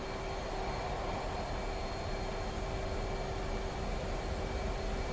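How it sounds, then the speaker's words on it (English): F/A-18C jet on afterburner during takeoff in the DCS World flight simulator, a steady broadband roar held evenly at moderate level throughout, with no voices. "Afterburner."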